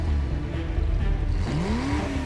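A car engine revs with a low, throaty rumble that swells, its pitch climbing noticeably in the second half, heard alone and fairly loud.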